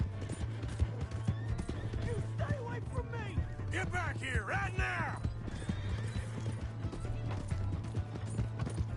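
Horse hooves clip-clop steadily through an open-world Western video game scene, with whinnies rising mid-clip and someone shouting over the action.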